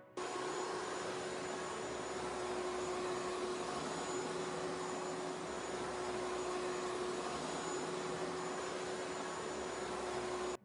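A Henry Hoover vacuum cleaner runs steadily for about ten seconds, a loud, even, whooshing roar with a constant whining tone, starting and stopping abruptly, with no talking.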